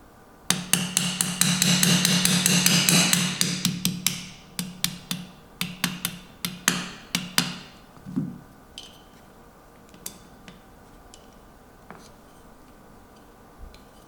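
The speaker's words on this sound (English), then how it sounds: "so now I'm going to push the pin through" A hammer taps a pin into an AR-15 lower receiver: a dense run of sharp metallic strikes that thins into scattered, slower taps, each close and crisp with no talking.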